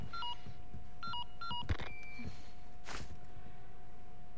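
A telephone rings in Resident Evil 4 Remake, starting with a short run of electronic dial-style beeps and followed by a sharp ringing burst over a steady tone and faint background game sound.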